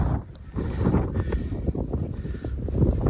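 Strong wind buffets the microphone on Holyhead Mountain, a rough, gusty low rumble that rises and falls for a few seconds without any talking.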